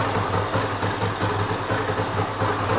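A Yamaha GT80 motorcycle, freed from a seized state and just kick-started, idles steadily and close up with a continuous, even buzzing putter and no talking.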